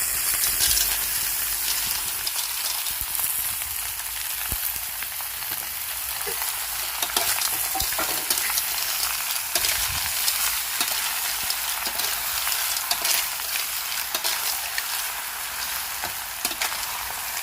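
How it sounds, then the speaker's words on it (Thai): Minced garlic and surf clams sizzle and crackle steadily in a hot pan as they are stir-fried, a continuous close hiss with occasional scraping from the stirring and no talking. "ผัดจนกระเทียมเหลืองและมีกลิ่นหอมนะคะ แล้วจากนั้นจึงค่อยๆเติมหอยที่เรา ล้างไว้แล้วเรียบร้อยนะคะ ใส่ลงไปในกระทะได้เลยค่ะ"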